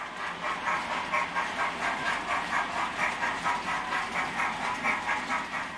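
A Hornby R3603TTS Lord Nelson model steam train runs steadily along its track through a Streamline points crossover with a rhythmic clicking chug and soft hiss, continuous and close, with no voices.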